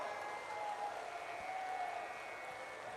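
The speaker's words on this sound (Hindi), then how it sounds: "जोरदार ताली बजाइए" Applause from a crowd at the Bundelkhand Mahakumbh religious gathering: a dense, continuous patter of clapping at a distance, fairly faint, with a few held tones sounding underneath.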